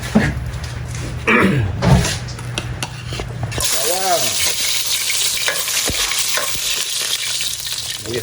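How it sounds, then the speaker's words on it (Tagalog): Cooking oil sizzling and crackling in a pan as aromatics are sautéed for a pork leg pochero, with utensil stirring and clanks over a steady fry and a voice speaking at times. "So diyan mga Victorious, mag-gisa tayo, lagay tayo ng mantika"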